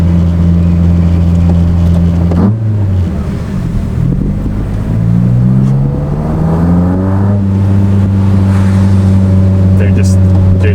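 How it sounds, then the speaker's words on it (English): A Toyota AW11 with a 4AGE engine running untuned, too-rich motorcycle carburetors is driven close to the microphone. Its loud buzzing engine tone drops as it shifts and then climbs again through the revs, with wind noise over it. "Enjoy a few seconds of, you know, bike carb untuned, too rich driving sounds."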